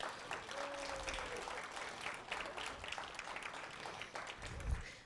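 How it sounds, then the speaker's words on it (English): Steady applause from a museum lecture audience runs through the whole stretch, dense and fairly close, with a faint tone and some low thumps underneath. "just a round of applause for the Millers"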